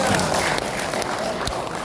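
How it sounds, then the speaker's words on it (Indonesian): Applause from attendees at an early-warning intelligence training session for community forum members: dense, continuous clapping close by, with a few sharper individual claps standing out. "Terima kasih tepuk tangan"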